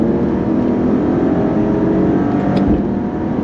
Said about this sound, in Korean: 이런 그 왕왕거림, 어떤 가슴을 울리는 이런 배기 사운드